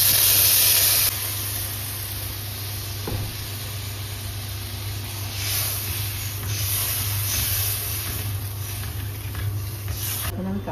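Water poured into a frying Bengali curry after the spice paste is cooked down sets off a loud burst of sizzling steam. A broad, steady hiss follows and carries on without a break.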